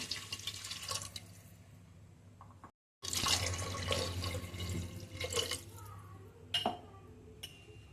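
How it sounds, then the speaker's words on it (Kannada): Water splashes and trickles into a pot of rice for tomato rice, with a brief pause, then more pouring alongside clinks of metal cookware nearby. "ಇದರಲ್ಲಿ 2 ಗ್ಲಾಸಷ್ಟು ನೀರು ಹಾಕೋತಾ ಇದ್ದೀನಿ"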